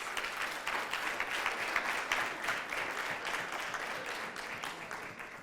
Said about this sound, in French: Merci d'applaudir pour Benoît.